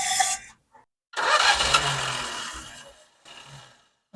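A 1959 Citroen 2CV engine cranks and catches, a short burst of noise followed by a loud rough clatter that settles, then a brief further rev near the end.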